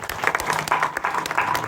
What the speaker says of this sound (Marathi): खरंच त्यांच्यासाठी पुन्हा एकदा टाळ्या वाजवा.